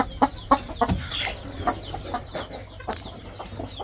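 Chickens on a farm cluck in short, irregular bursts nearby, a hen laying an egg, with a few sharper squawks among the soft calls.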